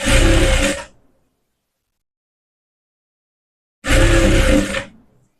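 An electric sewing machine stitches a blouse hem in two loud, close bursts of motor whir, each just under a second long, with silence between them.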